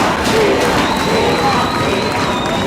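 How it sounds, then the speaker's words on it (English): Rugby match crowd at Tygerberg vs Hamilton chanting and shouting in a loud, dense, continuous roar that fills the stands without a break. "the crowd is shouting Tira, Tira, Tira"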